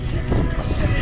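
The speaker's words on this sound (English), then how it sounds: "this wind is awful. It's a south wind and it's just killing us." A strong south wind blows across open water on a canoe fishing trip, a steady, close, rushing roar buffeting the microphone with no clear pauses.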